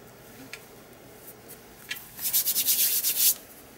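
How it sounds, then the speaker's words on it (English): Close, quiet rubbing of fingers or a tool across a paper collage journal page to lift dried glue, a faint scrape or two early on, then a dense run of quick scuffing strokes near the end. "I'm just getting rid of any bits of glue that's squished from underneath. It does rub off"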